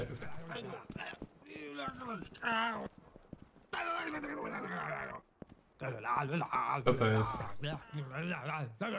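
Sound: horses galloping in a horse race, from a video game

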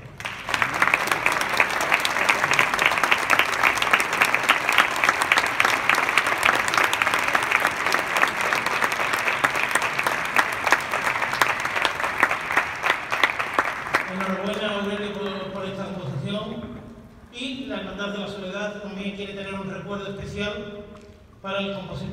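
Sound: audience applause at a processional march concert

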